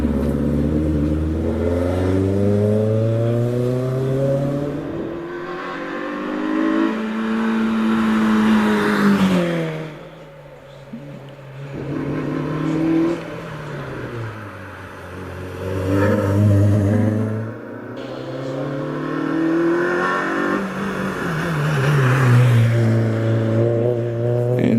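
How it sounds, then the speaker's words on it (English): A Renault Clio 182 races up the Prescott hillclimb, its engine revving hard and changing pitch through the gears, then dropping off and building again as it climbs. The car is heard fairly close throughout. "David Hemming in his Renault Clio 182"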